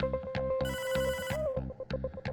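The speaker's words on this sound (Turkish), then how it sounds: "Aha, aha telefon çalıyor." Electronic telephone ring in the video game Hotline Miami, rapid repeating pulsed trills with a steady tone over a thumping game beat, loud and alone with no speech.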